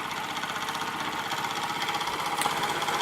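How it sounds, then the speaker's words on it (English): A Mr. Power model steam engine runs under steam with a fast, steady mechanical chuffing and knocking rhythm, close and continuous, with no talk. "So there you have it, a Mr. Power model steam engine."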